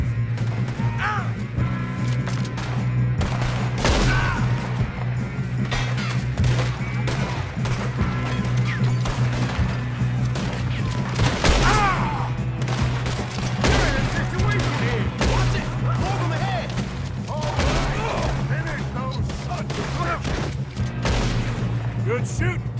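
Rapid gunfire crackles through a Red Dead Redemption 2 shootout, with repeated sharp shots and bursts over a steady low hum, some close and loud, others scattered, while voices call out between them.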